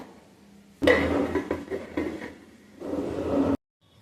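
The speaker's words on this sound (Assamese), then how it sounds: "অকণমান ঢাকি দিওঁ এতিয়া।" A metal lid goes onto a cooking pot of Assamese fish curry with a sharp clank, followed by rattling and scraping, then a second stretch of handling before it abruptly stops.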